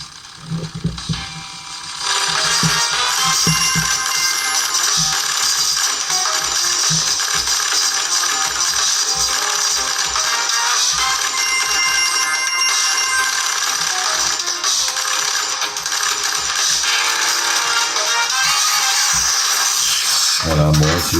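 Jetpack Joyride game audio plays from a Cubot X30 phone speaker: a continuous stream of mechanical clatter, ratcheting, coin pings and chimes, loud and steady for about twenty seconds after a brief quiet start.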